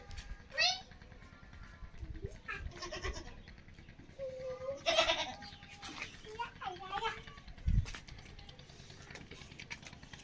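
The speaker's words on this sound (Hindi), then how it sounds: "ये रूम है बकरियों का" Goats bleating in a room on a rooftop goat farm still under construction, several scattered calls near and far, mixed with people talking and a voice throughout.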